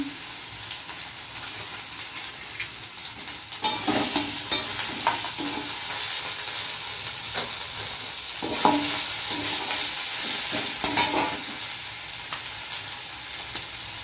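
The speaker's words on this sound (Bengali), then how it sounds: "সব এটাকে একটু কষে নেব।" Ginger and spices sautéing in oil in a pan for an egg curry, with steady sizzling and repeated scraping stir strokes that grow busier and louder midway, alone without any talk.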